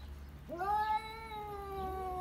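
A single cat lets out a long, rising-then-falling yowl close by, loud and drawn out for over a second, followed by a fainter second cry starting toward the end over a low background hum.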